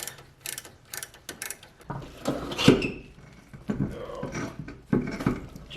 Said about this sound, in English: You can apply some drag with your finger, you can slow it down enough for the ratchet to work.